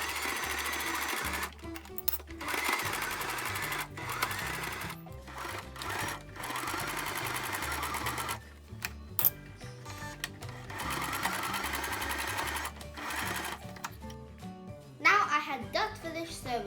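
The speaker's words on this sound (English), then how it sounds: "and then we're going to again sew." Sewing machine stitching a zippered pencil case, running in quick bursts of steady mechanical chatter separated by short pauses, near and fairly quiet.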